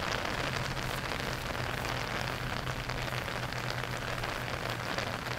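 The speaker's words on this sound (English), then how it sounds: "all while raining on us" Rain pours steadily on a Florida golf course during a round, a dense, even hiss of drops filling the whole stretch with no gaps and no voices.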